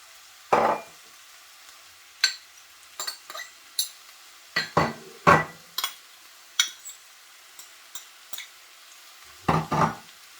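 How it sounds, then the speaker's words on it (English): Okra stirred and frying in a pan over reduced heat, with scattered clinks and scrapes of a utensil against the pan and a soft sizzle between them, close by with no talk. "I'm just gonna give it a little stir and let it fry"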